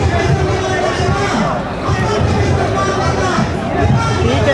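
A dense crowd murmurs and chatters continuously at an outdoor gathering, a loud steady babble of many overlapping voices close around.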